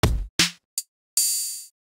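Four drum kit samples triggered one after another in Maschine: a deep kick, a snappy snare, a short closed hi-hat tick, then a longer ringing open hi-hat, each clean and isolated with silence between.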